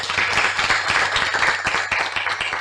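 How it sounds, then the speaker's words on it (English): Audience clapping at an industrialization dialogue event in Bungoma, Kenya: a dense, steady round of applause from many hands throughout, fairly loud and close, with no talk over it. "Please give him a clap."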